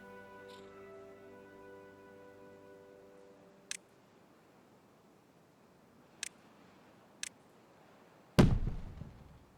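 Willow fireworks launched in the building game Timberborn: a fading tonal whistle at the start, three sharp isolated pops a few seconds apart, then a loud close burst with a crackling decay near the end.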